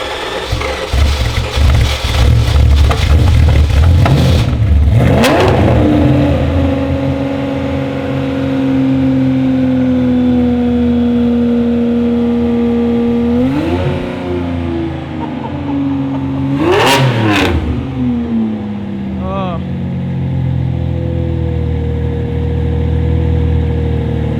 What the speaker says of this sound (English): we get to hear the glorious cold start of the flat 12.